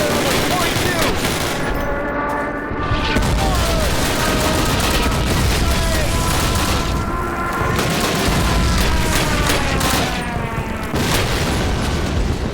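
MG42 machine gun fire in Call of Duty (2003) rattles loud and near, constant over heavy battlefield noise, with booming explosions and distant shouts mixed into a dense, unbroken wall of combat sound.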